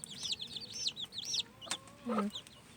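Young chicks, Comet and Americana breeds, peep and cluck outdoors in cold weather, with a rapid series of high chirps at the start and a lower call near the end, moderately close.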